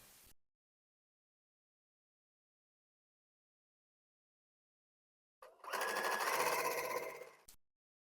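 A sewing machine stitches quilt pieces for an English garden table runner, a brief run of about two seconds of quick, steady mechanical whirring after long silence, with a short clip of sound at the very start.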